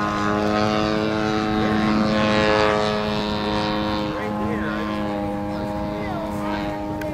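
A radio-controlled model aircraft making a low knife edge pass down a runway gives a steady, buzzing propeller-engine drone with a strong tonal whine. It is heard throughout, with announcer talk over a loudspeaker.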